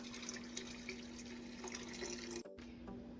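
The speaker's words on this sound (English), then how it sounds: "I'm going to pour this 3 cups of liquid that I removed back into the pot." About three cups of cooking liquid drained from sweet potatoes are poured back into a pot on the stove for a cobbler filling. The faint, steady trickling stream runs for a few seconds, with a brief break near the end.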